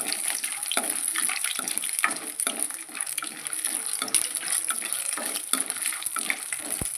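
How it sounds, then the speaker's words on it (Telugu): Mustard seeds tempering in hot oil for Andhra-style tamarind rice, a steady close sizzle with a bright hiss and dense small crackles and pops throughout. "ఇప్పుడు నూనె బాగా కాగింది పోపు వేసేసుకుందాం"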